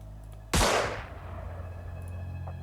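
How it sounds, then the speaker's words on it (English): One loud sniper rifle shot fires in the Xenonauts strategy game, a sharp close crack with a decaying boom that rings out over a low steady background hum, with no voices. "Now my sniper should still be in position to shoot"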